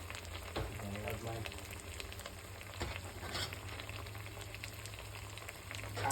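Noodles stir frying in a pan, a steady quiet sizzle with occasional scraping and tossing clatters, continuous throughout with a brief murmur of voice.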